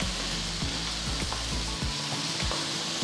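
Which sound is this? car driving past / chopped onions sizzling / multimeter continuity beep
chopped onions sizzling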